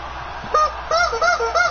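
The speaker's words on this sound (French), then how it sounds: "La poule du touchdown." A cartoon chicken squawk plays as the touchdown sound effect in the Madden NFL 16 football video game, a few loud honking clucks in quick succession with no talk over them.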